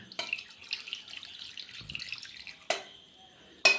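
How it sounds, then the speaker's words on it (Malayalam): Water pours and splashes from a tap into a pressure cooker holding jackfruit seeds, a steady close trickle with a couple of sharper splashes near the end. "എന്നിട്ടത് വെവാനുള്ള വെള്ളം ഒഴിച്ചു കൊടുക്കാം."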